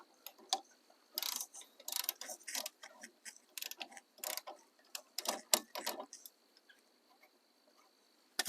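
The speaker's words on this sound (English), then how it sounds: "we get our 19mm, break our bolts loose" A ratchet with a 19mm socket breaks loose brake caliper bolts on a Chevy Silverado, giving bursts of quick metallic clicking separated by short pauses, close and fairly quiet, with no talk.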